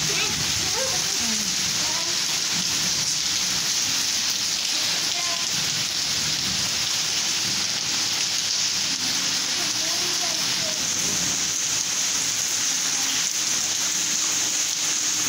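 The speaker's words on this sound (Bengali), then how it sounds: "জোরে বৃষ্টি পড়ছে, বাপরে জোরে একদম কালো করেছিল আকাশটা।" Heavy rain pouring down during a storm, a dense steady hiss of falling water that continues throughout, with a voice speaking faintly underneath.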